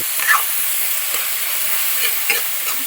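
Sliced onions frying in a pan for a Kerala-style chicken stew are stirred with a spoon. Close, crackling sizzle with a few sharp scraping strokes, and no voices.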